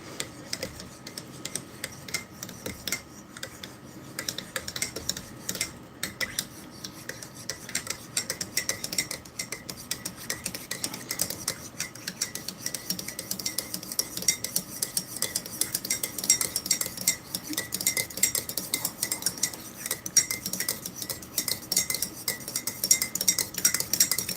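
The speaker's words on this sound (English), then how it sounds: "I'll finish stirring up the coffee." A metal spoon stirs coffee in a ration cup from a Minotaur Arctic ration pack, making a steady run of quick, light clinks and scrapes for more than twenty seconds with no talking.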